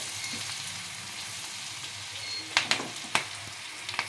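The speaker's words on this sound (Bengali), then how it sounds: "অল্প বিস্তর নাড়তে লাগবে এটা" A Bengali-style chili fish made with bhetki sizzles steadily in a frying pan. A few sharp scrapes and clacks of stirring come near the end, close and moderately quiet.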